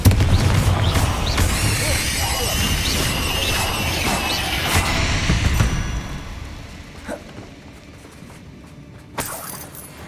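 Bombarda blasting spells in Hogwarts Legacy go off in a dense burst of crashing explosions with shattering debris and whooshes, then die down to scattered smaller crashes and one last impact near the end.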